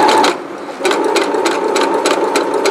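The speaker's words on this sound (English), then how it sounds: "So what I'm doing right now, I'm hemming the light duty denim first." A Brother computerized sewing machine slowly hems light-duty denim, its stitching a close, steady mechanical whir broken into quick rhythmic pulses, with no talking.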